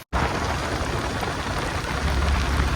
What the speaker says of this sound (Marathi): भाई पाऊस लय लागतोय काय म्हण।